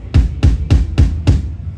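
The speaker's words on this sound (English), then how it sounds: "That's called the bass drum." Five deep, booming bass drum kicks thump at an even, quick pace, close and loud with no other sounds.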